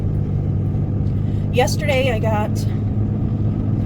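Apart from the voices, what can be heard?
car driving, heard from inside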